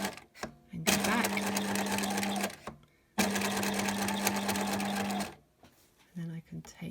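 A sewing machine stitches a dual-pocket crossover pouch in two steady bursts, each about two seconds long with a short pause between them. Soft handling noises come before and after the runs.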